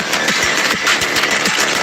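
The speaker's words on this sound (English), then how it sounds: "this turbocharged engine just keeps breathing" The turbocharged 1.5-litre four-cylinder engine of a Tata Sierra runs with a steady, full-bodied drone and a pulsing rhythm, loud and close, with no talk over it.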